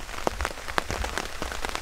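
Rain falls onto water and surfaces beside a fishing spot, heard as steady pattering with distinct close drops hitting throughout, alone without voices.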